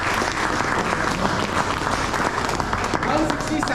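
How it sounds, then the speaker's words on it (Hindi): Steady applause from an audience at a bike club meetup of Apache 310 riders, dense continuous clapping and crowd noise filling the whole stretch at close range without pause. "तो एक बार बहुत जोरदार ताली।"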